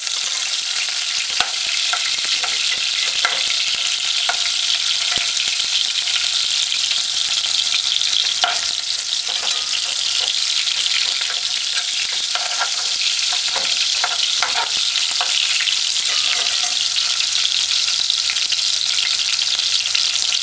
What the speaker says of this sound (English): the oil is hot, we're gonna now add the onions